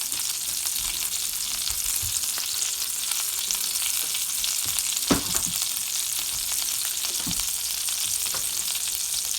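Chicken pieces sear in a pan over medium heat, giving a continuous loud close sizzle with scattered pops and crackles and a few sharper spits, no talking.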